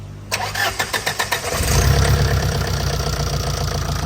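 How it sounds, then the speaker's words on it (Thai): A diesel engine cranks with a rapid run of starter pulses, then catches and settles into a steady, loud, close idle, heard alone after a fuel injector test. "เครื่องติด"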